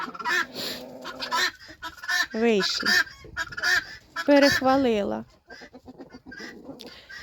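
Backyard poultry with a rooster running about, loud close honking and clucking calls in several bursts, with someone speaking briefly between them.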